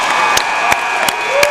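A crowd at a high school basketball game roars after a made shot, a sustained loud cheer with a few sharp claps or bangs punctuating it at regular intervals.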